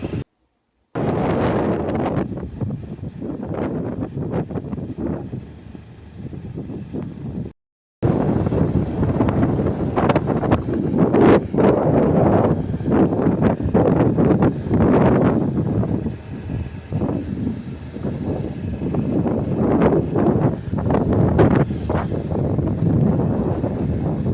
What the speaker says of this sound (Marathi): वारं चालू आहे थोडंफार